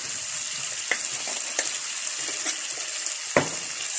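Half-cooked potatoes with turmeric sizzle steadily in a hot pan, a continuous bright frying hiss with a few soft clinks and stirring knocks, close and fairly loud, no talking.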